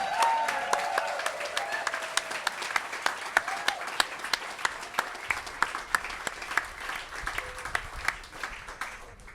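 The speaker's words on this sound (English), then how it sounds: "One more round of applause for both of our award winners." An audience at an International Day of Peace award ceremony claps for award winners, a moderate round of applause with sharp individual claps standing out as it gradually thins.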